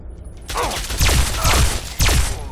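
Rapid bursts of gunfire from a companion in the video game Fallout 3, three or four loud close volleys in quick succession with echoing tails.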